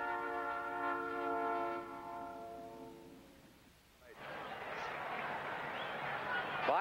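In a railroad commercial, a train horn sounds loudly with a long chord for about three seconds, then fades out, and the steady rushing roar of a passing train follows.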